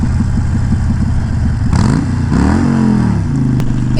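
2011 Harley-Davidson Iron 883 Sportster riding on the road, its engine loud and close, with a lumpy idle-like throb that dips and rises as the rider rolls on and off the throttle.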